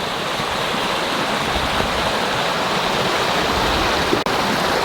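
Creek water flows steadily at Patrick Creek, a continuous close rushing wash with no break, loud and alone.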